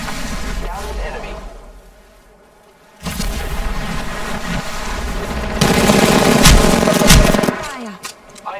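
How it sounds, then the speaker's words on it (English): Apex Legends firefight with loud, close automatic gunfire in rapid bursts, a brief lull, then heavier sustained shooting and booming impacts, with a player's voice talking over the action. "I am taking fire, friends. Shooting."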